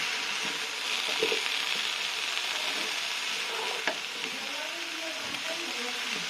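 Cauliflower and yardlong beans stir-frying with turmeric and salt, giving a constant hiss of frying with scraping, clicking stirs of a utensil against the pan, heard close.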